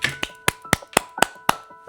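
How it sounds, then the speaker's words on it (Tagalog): Hand claps heard through headphones ring out in a steady series of about eight sharp, evenly spaced slaps, close and crisp, with no talking. "naririnig ko yung palakpak ko"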